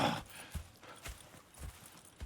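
Horse hooves clip-clopping at a walk in Red Dead Redemption 2, faint evenly spaced thuds about twice a second, alone with no talk.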